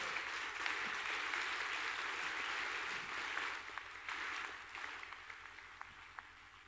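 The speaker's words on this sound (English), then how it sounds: "Let's give him a big round of applause." Applause from a keynote audience at a conference event, a fairly quiet but continuous wash of clapping that gradually tapers into scattered claps.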